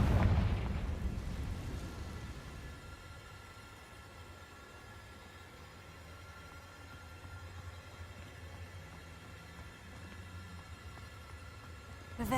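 A Confringo spell cast in Hogwarts Legacy erupts in a loud, booming blast at the start, then decays into a long low rumbling tail that lingers for several seconds, with another burst right at the very end.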